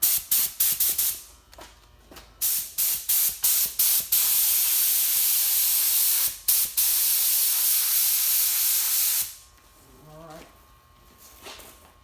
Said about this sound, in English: Alright, we're gonna put our first coat of primer on it.